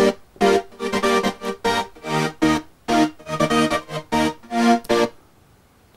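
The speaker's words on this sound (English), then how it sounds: "I think this is a combination of Arturia and a Moog" Stemmed synth layer built from two or three stacked Arturia patches and a real Moog, playing a run of bright, harmonically rich chord stabs in an uneven rhythm for about five seconds, then stopping. No one speaks over it.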